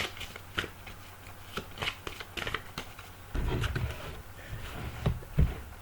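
Oracle cards being shuffled by hand for a five-card reading, a run of soft papery riffles and flicks in uneven bursts, close and fairly quiet, with no voice.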